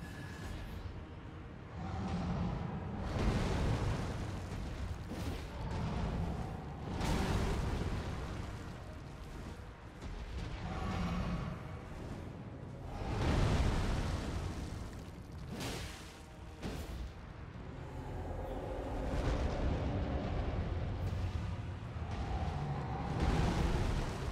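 Fire Giant unleashing fire attacks in the video game Elden Ring, a dense rolling rumble of roaring flames and explosive bursts swelling and fading throughout, loud and continuous.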